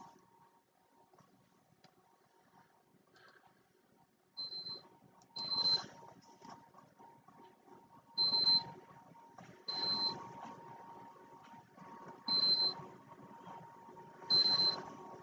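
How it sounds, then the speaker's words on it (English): A high electronic alarm gives short, sharp beeps about every two seconds over faint background noise, with no talking. "Something's beeping."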